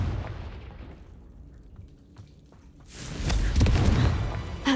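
Confringo blasting spell hitting a spider egg sac in Hogwarts Legacy: a quiet stretch with small taps, then a sudden loud, broad fiery burst that rumbles and crackles for about two seconds.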